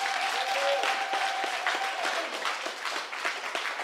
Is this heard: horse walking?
no